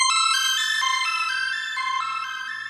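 Synth arpeggio in Phase Plant cycling quickly through the notes of a major sixth chord, bright, clean and upfront, with a steady rhythmic pattern and no voice.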